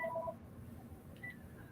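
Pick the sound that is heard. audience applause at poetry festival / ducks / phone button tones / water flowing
phone button tones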